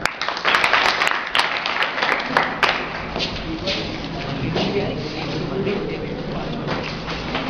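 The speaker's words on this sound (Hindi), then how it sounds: "इनके लिए एक बार ताली बजाएं" An audience at a school speech event applauds a teacher with a burst of dense clapping that starts loud and thins out, with sharp individual claps early and a lingering murmur of voices beneath.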